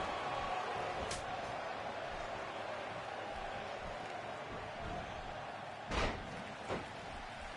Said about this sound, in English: And Naomi's turn to have her head slammed into the ground